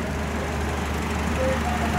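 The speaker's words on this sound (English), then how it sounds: "As you can see, with the AC on, have a reasonably smooth engine running." Honda Accord engine idling with the air conditioning on, a steady, smooth low hum heard up close with no talking.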